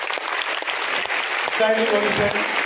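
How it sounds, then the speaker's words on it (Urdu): A large audience stands and claps loudly at an award ceremony for Jamia Islamia Kashif ul Uloom in Aurangabad, the dense applause running steadily through the whole moment with voices mixed in. "ایک بار زوردار تالیاں بجائیں"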